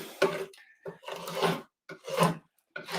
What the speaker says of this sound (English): then you just scrape off the excess and keep going